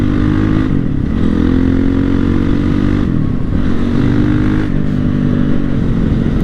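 A 2007 Honda CRF450X set up as a supermoto drones steadily while being ridden, its engine note rising and falling with throttle changes over a constant loud rumble and wind, with no talking.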